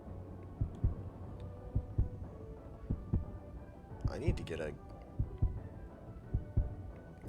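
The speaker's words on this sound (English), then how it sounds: "That's kind of annoying that the heartbeat sound is frozen." A video game heartbeat sound effect stuck in a loop, repeating as faint, regular low thumps about every half second beneath a person speaking, with a brief burst of louder game noise midway.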